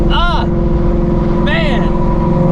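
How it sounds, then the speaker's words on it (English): A Shelby GT350's Voodoo engine, fitted with a ProCharger supercharger, holds a loud, steady drone while two brief whistling sweeps rise and fall above it. "you get the Voodoo sound, the Pro-Charger whistle"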